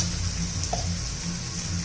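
Tomato softened in a pan sizzles and fries steadily with turmeric and spices for matar palak, a continuous close hiss with no talk.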